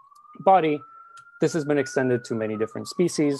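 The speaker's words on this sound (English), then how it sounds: "Excuse the sirens outdoors" A police siren wails steadily outdoors, faint but continuous, while a lecturer speaks over it indoors during a scientific talk.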